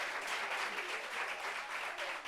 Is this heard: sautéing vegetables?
no